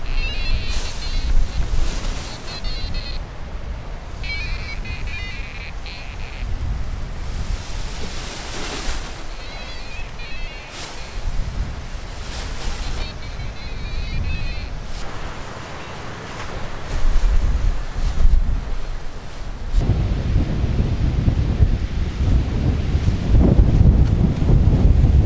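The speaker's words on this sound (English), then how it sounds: "I think we've picked a very windy day" Strong wind roars and gusts across the microphone during a paragliding test flight, a steady loud rushing that swells and buffets throughout, with no voices.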